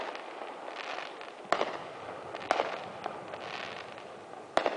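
A fireworks grand finale pops and crackles continuously outdoors at a distance, with three sharper booming bursts standing out over the dense crackle.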